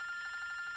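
A telephone rings in a domestic drama scene, a brief electronic trill with pulsing repeated tones, moderately quiet and heard alone without speech.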